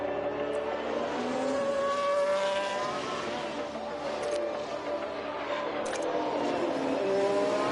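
Formula 1 car engines from the F1 Manager 22 racing game with a Ferrari-run Leclerc at the Netherlands race, steady high whining engine drone with pitch sweeps as cars pass, continuous and loud without talk.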